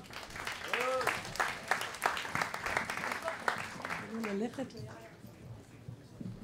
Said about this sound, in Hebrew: מחיאות כפיים, מגיע לה.